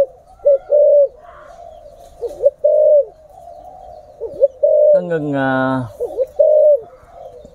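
A pair of Thai pigeons coo repeatedly in short, soft, rhythmic phrases close by, with someone briefly speaking over them partway through.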